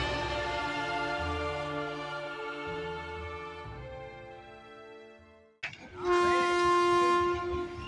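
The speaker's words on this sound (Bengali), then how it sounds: "Howrah Malda intercity express" The Howrah Malda Intercity Express rumbles close by at Khagraghat station, its wheels droning steadily before a loud, sustained horn blast rings out near the end.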